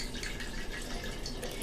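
Wine poured into a glass, a steady close liquid stream with faint splashy trickling throughout, no speech.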